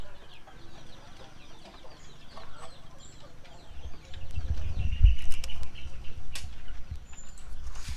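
Native chickens cluck and chirp close by on a farm amid handling noises, with a louder burst of scuffling and clucking midway and faint talk in the background.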